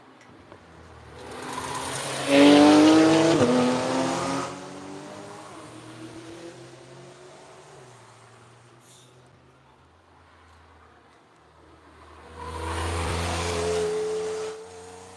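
Race cars at the Nurburgring pass by twice, each swelling as a loud engine roar with a rising pitch and then fading, with quieter rumbling between the passes.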